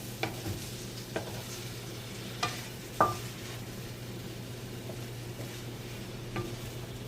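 Adobo tofu with eggplant stirred in a hot pan: a steady low sizzle runs throughout, broken by a few sharp utensil scrapes and taps against the pan, with no voices.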